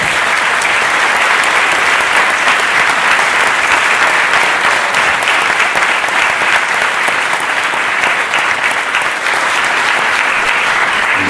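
A hall audience at a Romanian event breaks into loud, sustained applause, dense even clapping that continues unbroken for over eleven seconds.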